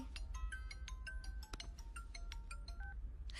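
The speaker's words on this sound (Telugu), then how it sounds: "ఎప్పుడు పడితే అప్పుడు ఫోన్ చేస్తున్నాడు" An incoming call sets a phone off with a quiet electronic ringtone of short repeated tonal blips and beeps in a brisk melodic pattern, alone in the room.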